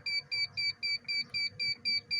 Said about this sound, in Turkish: Şimdi alarm ötecek. Tıt tıt gel gel demek.